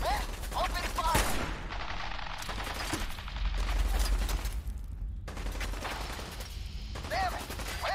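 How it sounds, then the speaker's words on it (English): Gunfire fills a Fallout 4 firefight, sustained bursts of shots and rattling mechanical clatter loud and close, with game voices speaking over parts of it. "Stop or we'll shoot! Men, open fire!"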